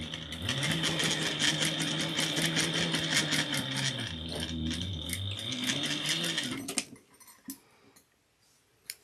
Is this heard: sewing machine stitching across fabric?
yes